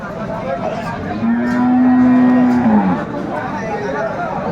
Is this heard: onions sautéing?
no